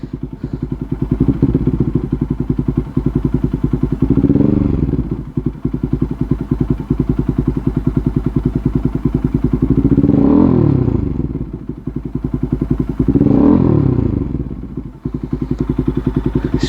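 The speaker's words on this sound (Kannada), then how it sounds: "ಇದು ಐಡಲ್ ಒಳಗಿದೆ ಒಂದು ಲೆವೆಲಿಗೆ ಐತಿ ಅಷ್ಟು ಲೌಡ್ ಇಲ್ಲ ಬಟ್ ರೇವ್ ಮಾಡಿದ್ರಂತೂ ಭಾಳ ಲೌಡ್ ಆಕತಿ" A Bajaj Pulsar NS200 200cc motorcycle engine runs loud and close throughout, a steady idle broken by three sharp revs that swell and fall back, with faint mechanical clatter underneath.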